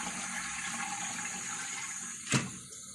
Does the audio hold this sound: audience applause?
no